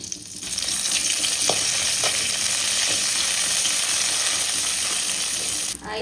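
Loud, steady sizzling of dried chilies and curry leaves frying in hot oil, with occasional sharper crackles and a faint clink near the end.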